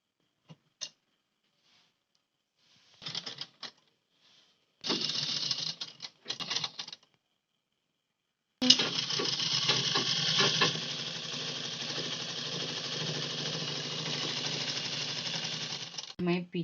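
A sewing machine stitches a blouse in short starts and stops at first, then runs in one long continuous burst of rapid, even stitching, near and clear.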